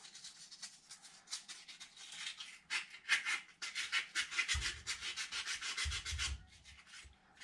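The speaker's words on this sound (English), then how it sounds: "While we're in here, we'll clean the flame sensor. It's this little guy. Just a piece of sandpaper." Sandpaper scrubs a furnace flame sensor clean in rapid back-and-forth strokes, a close, dry, rhythmic rasping that runs for several seconds with a couple of low thumps near the end.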